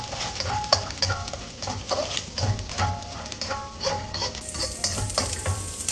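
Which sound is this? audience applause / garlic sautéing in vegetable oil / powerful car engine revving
garlic sautéing in vegetable oil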